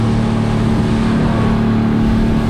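Fishing boat engine out in the Gulf getting underway, a loud, steady low drone with a strong hum that holds constant throughout, no voices.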